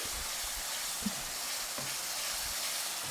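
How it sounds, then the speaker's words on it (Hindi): Boiled fresh peas with masala fry in a pan as part of a cauliflower and pea curry, giving a steady, even sizzle with a faint stir or two and no talking. "मटर डाल के हमें इसको अच्छे से भून लेना है"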